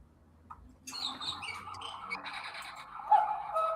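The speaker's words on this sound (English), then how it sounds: "And there's the cuckoo clock." Cuckoo clock calling indoors, thin repeated chirping tones starting after a moment of quiet and continuing faintly at a moderate distance, with light room noise.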